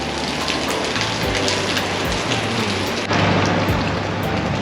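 Heavy rain pours steadily onto a surface at Khao Phra Khru viewpoint in Si Racha, Thailand, a dense continuous patter with a brief shift partway through, loud and close, with no voices.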